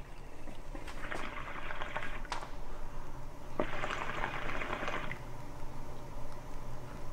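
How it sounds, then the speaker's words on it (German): Wasabi being stirred into water gives two bursts of watery swishing and sloshing, close and moderately loud, over a faint background hiss. "Jetzt sollen wir noch Wasabi ins Wasser rühren."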